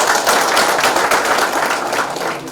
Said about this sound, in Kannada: ನಾವೆಲ್ಲ ಒಂದು ಅನ್ನೋದಿದ್ರೆ ಚಪ್ಪಾಳೆ ಹಾಕೊಂಡಿರ್ಬೇಕು